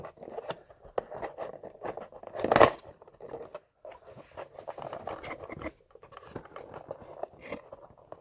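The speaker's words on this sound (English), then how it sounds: "So just use the handy dandy scissors over there." Scissors slice through the seal of a factory-sealed box holding an Intel processor, giving one short, close burst of crunchy cutting among soft handling and rustling of the packaging.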